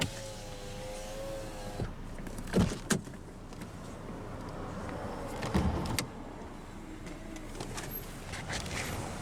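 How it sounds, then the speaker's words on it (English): Power window motor on a 2004 Suzuki Forenza S rolling the driver's window down, a steady whirring hum lasting several seconds, close by inside the car, with a few sharp clicks and thumps from the door. "rolling down the driver's window. The driver's window is automatic down."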